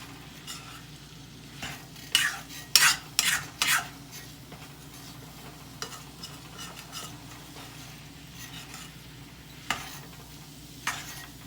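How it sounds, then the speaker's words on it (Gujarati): Gram flour being stirred into green bell peppers frying in a steel pan, with several sharp scraping clatters of a spoon against the pan over a low steady sizzle. "ચણાનો લોટ નાખીશું ચણાનું બેસન અને સરસ રીતે હલાવીશું મિક્સ કરીશું"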